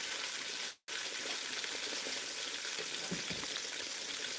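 Catfish fries in a pan in a home kitchen, giving a steady, dense sizzle that briefly cuts out once and then carries on with no talking.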